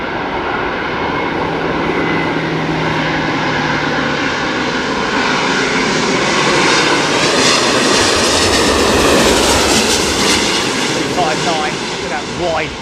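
Airbus A350-900 landing at London Heathrow during a storm, its engine roar steady and loud throughout, mixed with heavy wind and a voice talking over it.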